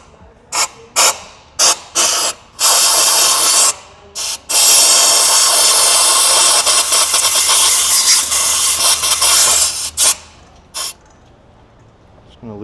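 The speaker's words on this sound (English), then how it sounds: "with the injector out, I'm just gonna blow the hole out a little bit" Compressed air blasts in short bursts, then a long sustained hiss, into the empty fuel injector bore on a Cummins diesel engine in a Nissan Titan, loud and close, ending with a few more brief puffs.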